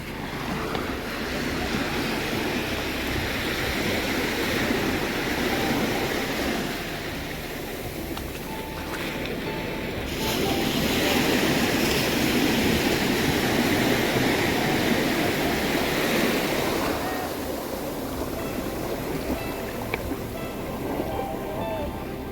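Sea waves wash and draw back over the sand at Devbag beach on the Konkan coast, a loud continuous surf with wind buffeting the microphone and a voice talking over it.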